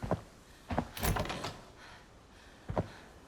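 A door swinging shut in the tactical shooter Arena Breakout, with a few short clunks and a brief scraping rustle spread over a few seconds, fairly close but modest in level, with no talking.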